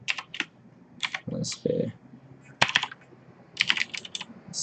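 Typing on a computer keyboard during web development work: short bursts of key clicks, fairly close, with a few heavier thumps and brief speech between them.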